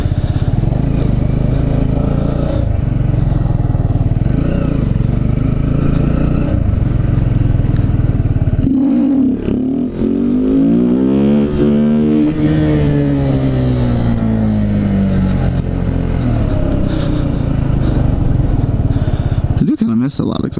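A Kawasaki Z125 small motorcycle engine revs up and down loudly with a harsh, raspy exhaust, pitch sweeping up and falling back, close to the listener.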